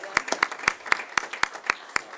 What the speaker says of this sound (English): We should start applauding right now.